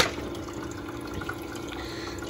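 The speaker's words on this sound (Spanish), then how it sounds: "Ahora se llena. Yo le echo más agua." Water pours into a Frigidaire countertop ice maker, making a steady, soft trickling and splashing hiss with faint drips throughout.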